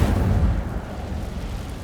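A fire spell cast in the fantasy game Hogwarts Legacy erupts as a loud, low, rumbling fiery burst that roars continuously for about two seconds without any talk.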